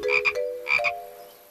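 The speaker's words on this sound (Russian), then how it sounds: "Эй, это же просто лягушка!" A cartoon frog gives two clear, close croaks, each a quick double burst, with no voices over them.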